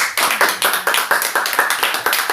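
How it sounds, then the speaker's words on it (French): Rhythmic group clapping from a church congregation during a sermon, around a dozen evenly spaced, loud claps in steady tempo with no voices over them. "applaudissez encore pour lui."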